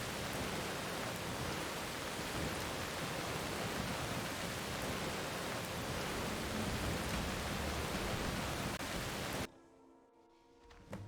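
Heavy rain pours in Skyrim as a loud, steady broadband hiss that drowns out everything else for about nine seconds, then cuts off abruptly into near quiet.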